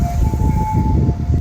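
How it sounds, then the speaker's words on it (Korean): An ambulance siren wails close by in the morning near a quiet park in Japan, a loud steady tone over rumbling traffic noise, lasting only a moment. "아침부터 삐뽀삐뽀가 달려오는 게 아니겠어요"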